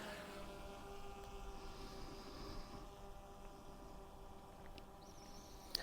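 Large DJI drone climbing to about 50 metres outdoors, a faint, steady propeller hum with a distant tonal whine, continuous throughout and heard alone.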